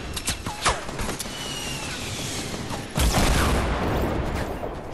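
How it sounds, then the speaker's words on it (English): Rapid bursts of gunfire in Fortnite ring out over a dense, busy game mix, with a louder stretch of shooting kicking in partway through. "Oh, I'm shooting now."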